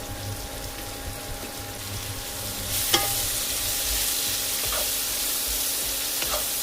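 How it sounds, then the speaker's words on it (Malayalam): Sliced onion and slit green chilies hit hot oil with ginger and garlic, bursting into a steady, loud sizzle that holds throughout, with a couple of light utensil clinks over the frying. "അതിലേക്ക് സവാള അരിഞ്ഞതും പച്ചമുളക് കീറിയതും കൂടെ ചേർക്കാം"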